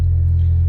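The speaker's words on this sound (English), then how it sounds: "Letting the car warm up" A Nissan S13 engine idles while warming up, giving a steady, close, deep rumble with an even low throb and no voices.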